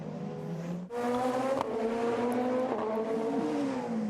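Three Super Formula race cars battle for position at the SUGO circuit, engines screaming at high revs with gear shifts, a loud continuous roar close by.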